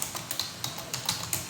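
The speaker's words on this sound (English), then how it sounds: "I will click somewhere here on the screen and start typing it" Steady typing on a computer keyboard, a quick run of light, evenly spaced key clicks, close and fairly quiet, with no voices.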